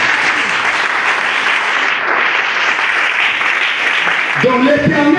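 A church congregation applauds loudly and steadily, a dense wash of clapping throughout, with a voice rising over it in the last second.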